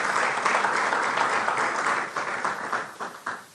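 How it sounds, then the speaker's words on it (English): A crowd applauds steadily, a dense wash of clapping that holds level before tapering off near the end. "Can we give him a round of applause?"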